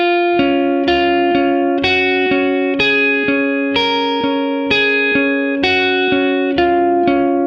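An electric guitar run through effects plays a song's riff in standard tuning at a slower pace, a steady stream of bright, sustained repeating notes with clear attacks, close and loud with no talking.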